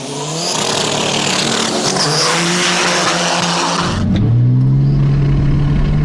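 Two 500bhp tuned diesel cars, a VW 1.9 TDI and a BMW 330d, launch hard in a drag race: a loud, sustained engine roar with squealing tires, then a deeper droning engine note takes over.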